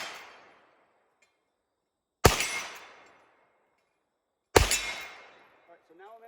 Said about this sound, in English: let's shoot some steel